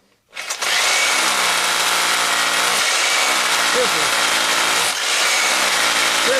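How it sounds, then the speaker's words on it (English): A power drill bores through the wooden bottom of a gun cabinet, a loud continuous whine with grinding bite that starts abruptly and dips briefly twice while the bit is worked in and out. "Okay, so I'm going to drill a little bit more."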